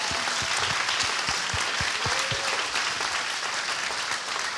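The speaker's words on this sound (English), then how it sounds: "You deserve a round of applause" Applause from a film festival audience fills the room, a dense, even roar of many hands clapping at steady loudness from start to finish.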